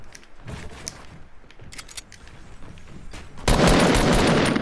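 Rapid video game gunfire crackles in bursts, ending in a loud sustained blast of shooting that dominates the mix.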